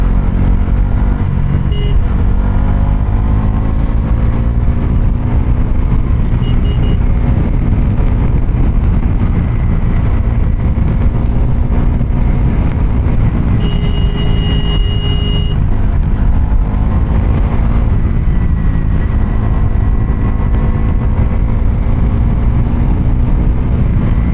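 A Bajaj Pulsar NS400Z motorcycle riding in fourth gear gives a steady, loud engine drone that runs unbroken from start to end with only slight shifts in pitch, and no talk is heard.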